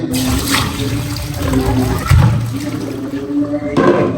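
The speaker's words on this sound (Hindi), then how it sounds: "इसको अभी हम अच्छी तरह वॉश कर लेंगे" Marinated chicken is rinsed under running water in a kitchen, a steady splashing and trickling stream that runs close and loud throughout, with no talk over it.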